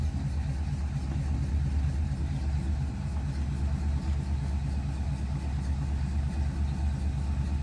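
A 1955 Ford Fairlane engine, stone cold just after starting, idles with a steady, even low rumble that holds close and unchanging throughout.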